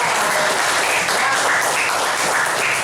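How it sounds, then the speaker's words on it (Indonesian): Steady applause from a class session fills the room, dense and even throughout with no voices standing out. "Tepuk tangan untuk kita semua"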